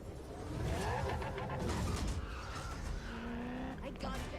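A car driving and skidding in an Electronic Arts game trailer, with a steady loud engine roar, music and effects, a rising tire squeal near the end, and a voice talking over it.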